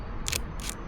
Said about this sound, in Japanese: ちょっとそのタイプ240ちゃんのシャッター音聞かせてくれますか？